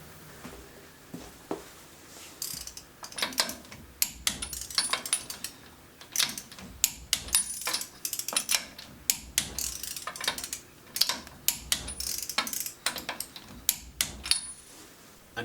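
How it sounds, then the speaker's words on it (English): A hand ratchet tightens wheel lug nuts on a wheel adapter in bursts of quick clicking, with short pauses between runs as each nut is worked in a crisscross pattern, close and fairly clear. "Next you're going to tighten the lug nuts down to the manufacturer's specification."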